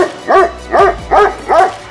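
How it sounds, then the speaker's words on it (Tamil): A dog barks four times in an even rhythm, close and fairly loud, with a low rumble underneath and no talk. "நம்ம நேரம், நாய் கூட நம்மளை குறைச்சி நம்மளை காட்டி கொடுத்துரும்பல இருக்கு."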